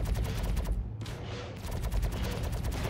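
Rapid, continuous gunfire in the space game Star Citizen, a dense burst of shots that briefly drops out before resuming, loud and close throughout.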